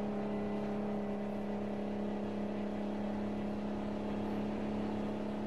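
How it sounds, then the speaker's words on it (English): A Mack truck engine in American Truck Simulator drones with a steady low hum, the pitch holding nearly constant as the rig rolls, heard alone at moderate volume. "Alright, we got this truck rolling."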